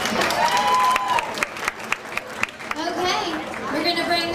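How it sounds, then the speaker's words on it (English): At an opry night at a Texas steak ranch, an audience applauds the show's director in a short burst of clapping mixed with chatter and some cheering, as voices carry on talking while it fades. "so let's give her a round of applause for that."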